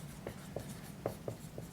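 Soft, faint taps and short strokes of writing on a board during a math lecture, coming in a loose, irregular rhythm over a low room hum.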